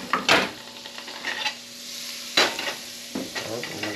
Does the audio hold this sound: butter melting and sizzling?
yes